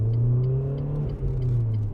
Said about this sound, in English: And just at certain revs, which I'll try and keep it at, and then give it some gas.